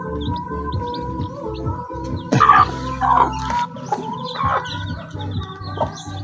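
A chicken clucks several times in short bursts, close by, amid faint background chirping and ambient noise, in a rural setting.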